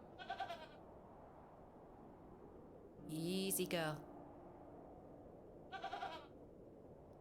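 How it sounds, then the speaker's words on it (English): A goat in the video game The Excavation of Hob's Barrow bleats three times, with short quavering cries at the start and end and a longer, louder bleat in the middle, while a person speaks briefly. "What's up, goat?"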